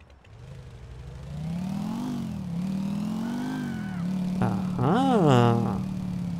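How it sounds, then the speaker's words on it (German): A motorcycle engine in GTA IV revs up and down in rising and falling sweeps, loud and close, climbing to a sharp high whine near the end. "Jetzt schnell aufs Motorrad drauf und hinterher."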